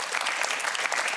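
An audience applauds steadily throughout at a Norwegian Eurovision preview show, dense clapping close and continuous, with a voice faintly under it.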